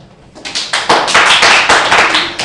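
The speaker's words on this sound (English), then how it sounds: "Clap your hands." A class of students claps hands together in a lively, uneven burst of roughly a dozen loud, overlapping claps close by, with no talking.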